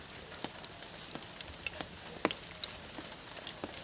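Spice masala crackles faintly in hot oil in a pan for a Chettinad country chicken gravy, with soft scattered pops over a low steady sizzle and no voices.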